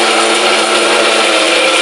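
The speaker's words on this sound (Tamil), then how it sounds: "அதனால நல்லா அரைச்சிக்குவோம்." A mixer grinder pulverises coriander seeds into powder, a loud, continuous high-pitched whirring grind held at steady volume throughout, close and with no speech.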